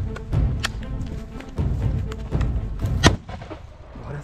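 An 8-gram firecracker is set off inside a car, producing a sharp, loud blast amid several heavy thumps and bangs, with bursts of rattling in between and a brief, quieter tail.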